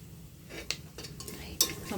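A spoon stirring turmeric and salt into a curry mixture in a pan, with soft scraping strokes and a few sharp metallic clinks against the pan's side, close and moderately quiet over a faint sizzle.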